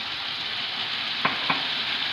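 A spoon stirs urad dal in a pot, giving two quick clinks over a constant soft sizzle of cooking.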